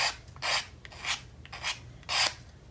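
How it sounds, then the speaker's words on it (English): A nail file rasps against paper edges in four short, quiet strokes at an even rhythm, close and alone with no talking. "I just use my nail file, and I always keep a couple in my toolkit. and just knock those back."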